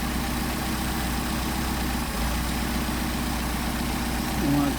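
An engine fitted with Solex 44PHH carburetors idles steadily at about 800 rpm, a loud, even, continuous rumble that holds throughout with no clear change.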